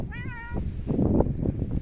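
A cat in Japan gives one clear, rising meow close by, followed by soft rustling and handling noises.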